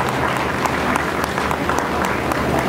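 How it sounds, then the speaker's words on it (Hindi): Audience clapping at a real estate marketing event, a continuous dense patter of many hands with scattered sharper claps throughout. "तालियां बजा दें।"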